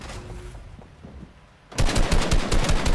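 Gunfire in the video game Fortnite, a rapid burst of automatic shots erupting loudly after a quieter stretch of game ambience.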